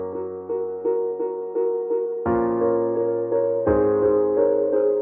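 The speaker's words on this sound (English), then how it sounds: "the next thing I'm going to talk about before we get into the bass is the harp." Harp and piano play together in a Logic Pro song arrangement, plucked harp notes rising in a steady pattern over sustained piano chords, growing fuller and louder with two stronger accented entries, with no talking.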